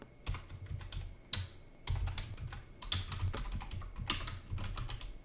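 Rapid clattering keystrokes on a computer keyboard as code is typed, in uneven bursts with brief pauses between them, close and fairly loud with no talking.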